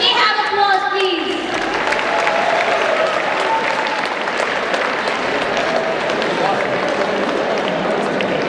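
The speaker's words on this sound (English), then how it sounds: "Can we have applause, please?" A crowd claps continuously at a felicitation ceremony for Chetan Bhagat, steady dense applause with crowd voices mixed in; a voice trails off near the start.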